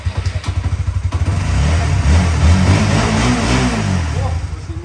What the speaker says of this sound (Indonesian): Oh, mesinnya halus.